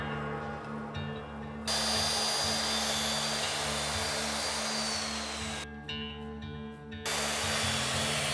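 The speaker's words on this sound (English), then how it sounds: "I'm sanding the top with 60, 120, and 220 grit sandpaper" A power sander works across a wooden dining bench top with 60, 120 and 220 grit sandpaper, giving a loud, steady whirring drone that briefly drops back twice before resuming, with no voices.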